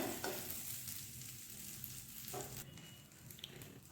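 Curry leaves roasting in a pan over a low flame give a steady, fairly quiet sizzle and crackle, with light stirring scrapes and a few sharper pops; no one talks.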